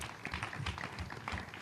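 An audience applauds a journalist guest at a cultural event, with steady, dense clapping that sounds somewhat distant and fairly faint throughout.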